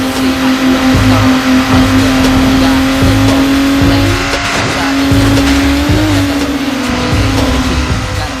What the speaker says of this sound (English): a very slick racer full of high-speed performance cars and mad joyriding action